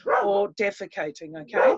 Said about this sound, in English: that's my dog barking in the background there